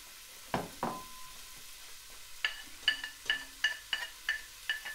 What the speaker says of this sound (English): fry the onions and garlic till translucent